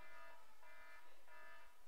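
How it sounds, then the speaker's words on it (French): A phone alarm rings with a steady buzzing, beeping electronic tone that pulses in a few repeated bursts across the whole moment, close and fairly quiet. "Excusez-moi, c'est juste mon alarme."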